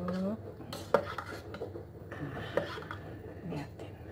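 A spoon stirs hot black Lampung coffee in a glass, with several clinks against the glass spread over a few seconds above a low background hum.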